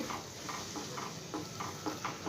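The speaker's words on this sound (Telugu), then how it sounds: "ఈ గుండె ఇలా కలుపుకుంటూ ఉండలు కట్టకుండా కలిపేసుకోవాలండి" Rice flour is stirred into hot water in a pot to make modak dough, giving a soft, rhythmic scraping and squishing that repeats at a steady pace, faint and close.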